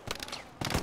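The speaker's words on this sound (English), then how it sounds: "Oh, you are artillerying it?" Rapid bursts of gunfire from the World War II shooter Hell Let Loose, two close clusters of sharp cracks split by a short lull, loud and with no voices over them.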